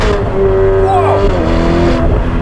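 A Novitec-tuned Ferrari F8 Spider convertible with 802 horsepower accelerates, its engine and exhaust giving a loud, close, rising roar with sliding tones as it revs through the gear.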